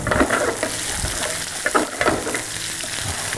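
Sliced onions and ginger-garlic paste sizzle in hot oil for a mutton betel-leaf chukka, with continuous frying crackle and a few scraping stirs of a spoon, close up and with no talking.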